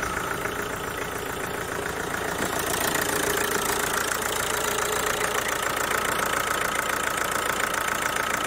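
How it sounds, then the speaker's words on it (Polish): A Kia or Hyundai 2.0 CRDi diesel engine idles steadily close by, warmed up to 90 degrees, a continuous clattering knock with a slight rise in level after a few seconds. "Właśnie pracuje sobie silniczek."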